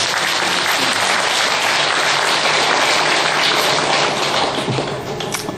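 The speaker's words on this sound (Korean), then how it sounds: "박수 한번 주세요." Loud, close applause fills a Buddhist temple's Sunday dharma service, a dense, uniform crackle of many hands clapping that stays strong for over five seconds and eases slightly at the end.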